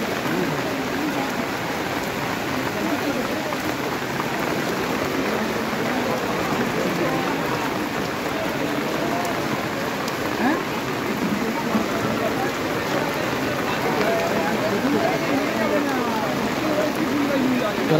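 Steady rain falls over an outdoor pet market where birds, dogs and fish are sold, a constant close hiss of drops on surfaces that runs evenly throughout with no other sounds standing out.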